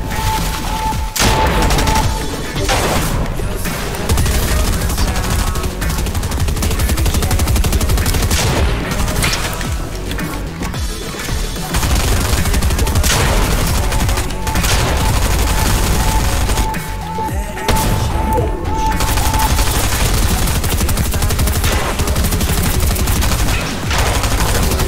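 Sustained Fortnite gunfire during a solo Cash Cup qualifier match, loud and continuous bursts of shots and booms packed throughout with brief lulls, no talking.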